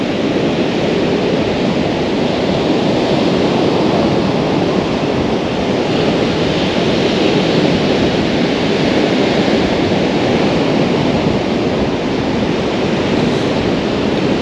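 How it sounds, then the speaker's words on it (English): Big rolling surf on the Holderness Coast beach pours in as a loud, continuous broadband roar with wind buffeting the microphone and no talk. "Some nice big rollers coming in now, 4 or 5 waves of them."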